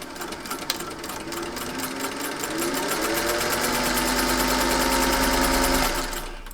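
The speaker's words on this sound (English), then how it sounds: "I'm going to sew this edge with 1/2 inch seam allowance" Sewing machine stitching the straight edge of a fabric band for a sun hat or visor, a steady rapid mechanical hum that ramps up and runs continuously before slowing to a stop.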